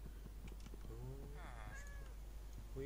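A cat meows in the Minecraft video game, a few short mewing calls at moderate volume over steady game background noise.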